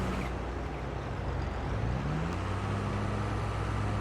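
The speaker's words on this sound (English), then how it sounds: "Wow, that's the tractor." The low, steady drone of a tractor engine in the farming video game Farming Simulator 22 hums continuously, with a rising tone partway through as the engine revs up. No talk is heard over it.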